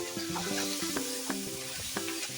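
Carrot pulao ingredients fry in a pan, with a soft continuous sizzle broken by a few scraping stirring strokes, close and fairly quiet.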